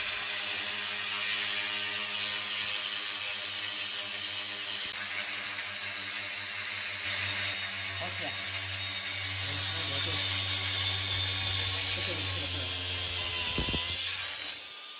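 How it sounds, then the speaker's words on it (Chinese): An angle grinder fitted with a hole saw cuts holes in ceramic wall tile under a water spray, giving a steady whining motor hum with grinding scrapes rising in the middle and later. "这是用的角磨机开孔器。"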